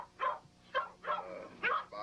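A young pit-type game-dog puppy in a kennel yard lets out four short, high yips and barks in an uneven rhythm, close and fairly quiet, with faint whimpering between them.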